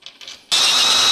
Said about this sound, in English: I'll just drill it out to M10.